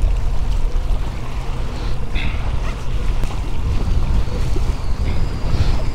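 An ePDL electric pedal-drive kayak running at full speed on cold water with an incoming tide, heard as steady, loud rushing water and wind buffeting the microphone, with no clear voice.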